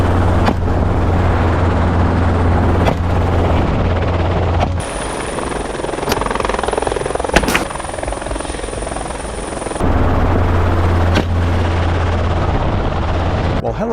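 A helicopter used for hunting feral hogs flies overhead with a loud, steady rotor thump and engine drone. The noise drops in a middle stretch, where a high whine takes over, then the full rotor sound returns.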